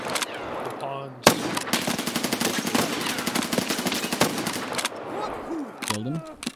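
Rapid automatic gunfire in Escape from Tarkov, a dense burst of shots lasting several seconds with single loud reports before and after, close and loud, with a player's voice speaking briefly at the start and end.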